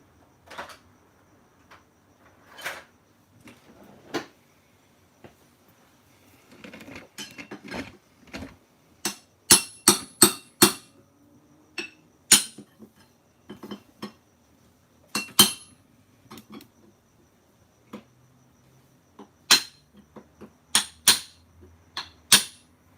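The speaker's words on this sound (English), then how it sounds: "I can sort of try to hammer this one off and see what happens." Hammer blows knock a Dueltron Raptor II tire off its rim: sharp metallic clinks and strikes come in irregular bursts, sparse at first and then quicker and louder, with no talk.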